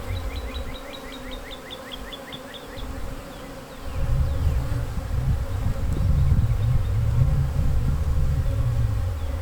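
A dense, steady hum of many honeybees buzzing close by as they are shaken off a frame into a hive body, growing louder midway, with a few faint bird chirps early on.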